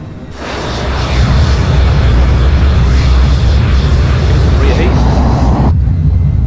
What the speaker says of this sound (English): Use our reverse thrust, guys.